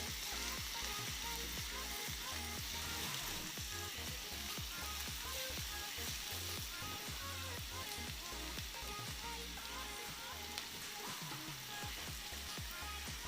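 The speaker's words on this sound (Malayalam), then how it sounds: "നന്നായി വഴന്നു വരുമ്പോഴേക്കും നമ്മൾ പെട്ടെന്ന് വഴന്നു വരാൻ വേണ്ടി അല്പം ഉപ്പ് ആഡ് ചെയ്തു" Clam meat sautés with salt in a pan, giving a dense, steady sizzle with constant crackling and soft stirring scrapes, close and without voices.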